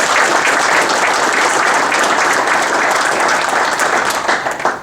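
Steady, dense audience applause at an awards night fills the room, loud and continuous, easing slightly toward the end.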